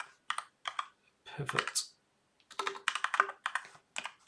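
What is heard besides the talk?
typing on a computer keyboard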